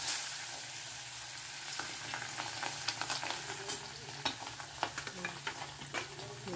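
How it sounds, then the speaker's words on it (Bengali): Fish frying in hot oil, a continuous close sizzle broken by frequent crackles and sharp spattering pops, with occasional stirring scrapes, no voices. "এই মাছ ভাজতে গেলে ঢাল তরোয়াল নিয়ে নামতে হয়, যা ফাটে"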